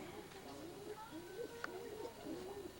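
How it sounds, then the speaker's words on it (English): Pigeons in a long breeding loft coo repeatedly in low, rolling, overlapping calls against steady room noise, with a sharp brief knock partway through. "It's kind of like Pigeon City here. Pretty long loft setup."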